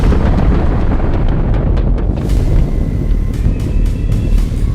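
A loud, rumbling blast roars and then rolls on with a sustained low boom, followed by crackling debris and wind-like noise.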